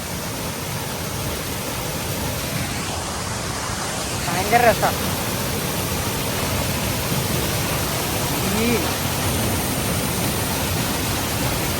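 Water rushes forcefully down from above in a steady, loud, broadband roar that persists throughout, with people talking over it.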